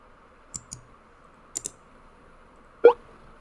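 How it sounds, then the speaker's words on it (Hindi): Sharp, isolated clicks sound alone against quiet: two quick clicks, a pause, another pair, then one fuller pop. "click sound"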